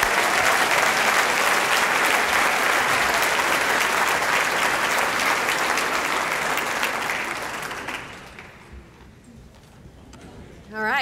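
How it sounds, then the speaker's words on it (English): Audience applause at a student awards banquet, a loud sustained ovation for the winning students that holds steady for about eight seconds, then fades to a quieter room with a brief swell at the end. "how about one more round of applause for the winners from North?"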